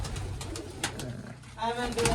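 Pigeons in a net coo in a few soft low bursts close by, with someone talking over them and a brief chirpy flutter near the end.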